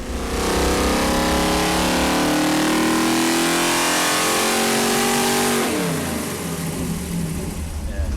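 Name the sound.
Chevy 454 V8 engine revving on a dyno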